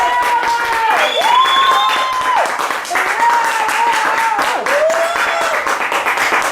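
Audience applause rolls on at a talk event while tonal whistling or musical sounds glide above the clapping, fairly loud and sustained throughout.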